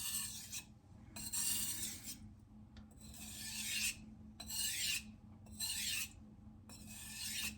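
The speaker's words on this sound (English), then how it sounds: "You can hear that really nice sandy sound." A knife blade is stroked along a coarse natural whetstone, giving repeated gritty, sandy rasping passes of about a second each, fairly close and steady, with no talking.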